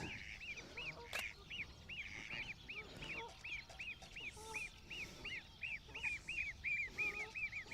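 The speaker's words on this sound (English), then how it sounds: "there's some baby ducks coming in" A group of baby ducks calls outdoors in a rapid, steady series of high, thin peeps over rustling ambient noise, fairly distant and continuous throughout.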